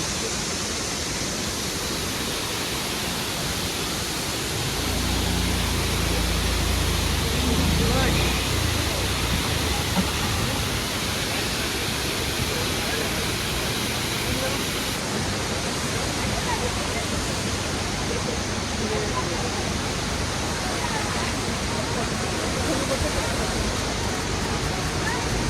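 A waterfall on the Tilicho trek in Nepal's Manang region roars close by in a loud, unbroken rush of falling water that fills the whole scene.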